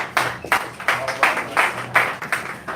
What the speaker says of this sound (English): please give our Sister Joelle Jones, a warm round of applause as we bring her up